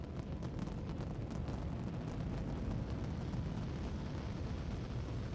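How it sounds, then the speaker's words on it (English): A rocket launching in the game Eden Crafters, a dense, steady roar of rumbling thrust that fills the whole clip at constant loudness, with no voices. "The rocket is ready to launch"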